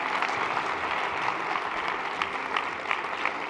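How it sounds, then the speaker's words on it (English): A large event audience claps in a sustained round of applause for the AV team, a dense wash of hand claps with a few sharper individual claps standing out and no speech on top. "can I get you all to give this amazing AV team a huge round of applause?"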